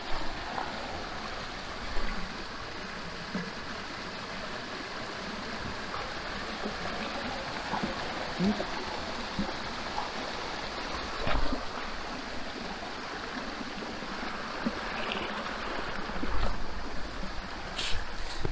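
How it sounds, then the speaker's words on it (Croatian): A waterfall on a mountain hiking trail on Pliješ in the Žumberak hills of Croatia gives a steady, fairly faint broadband rush that holds evenly throughout, with occasional soft bumps nearby. "Evo nam slapa."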